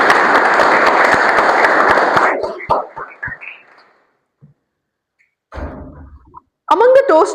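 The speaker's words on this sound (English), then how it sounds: "Huge round of applause for the entire new EC." At a Toastmasters club meeting, a room gives a dense burst of applause for the new executive committee; it fades after a couple of seconds into scattered thuds and knocks, and a voice follows.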